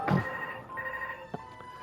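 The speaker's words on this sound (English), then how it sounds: "Excuse the phone noise in the background." A telephone rings in the background with a sustained electronic ring tone in short bursts, clear but somewhat distant, with no talking over it.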